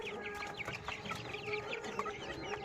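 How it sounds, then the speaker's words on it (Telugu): A heavy short-nose long-tail rooster, about three kilos, clucks repeatedly in rapid, choppy bursts close by, with other fowl noise filling the farmyard around it. "ఇంకొక పుంజు ఉంది, అది కూడా చూపిస్తాను."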